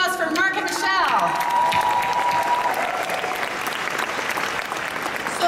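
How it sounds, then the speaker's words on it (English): Audience applause rises and holds steady at a business conference session on digital revolution and digital business, a dense, continuous clapping wash from a crowd after presenters finish, with a short tonal chime early on. "How about a round of applause for Mark and Michelle?"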